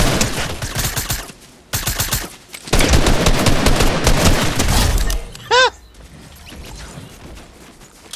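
Rapid bursts of automatic gunfire in a video game, loud and close, several volleys in succession with brief pauses and a short electronic chime near the end.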